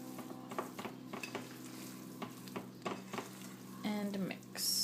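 Lomo saltado being stirred in a hot pan, with steady sizzling under repeated scraping and clinking of a utensil against the pan, close and fairly quiet, with a brief louder hiss near the end.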